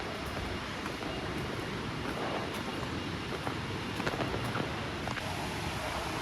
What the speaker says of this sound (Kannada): ಚಲೋ, ಫಾಲ್ಸ್ ಸೌಂಡ್ ಕೇಳಿಸ್ತಾ ಇದೆ.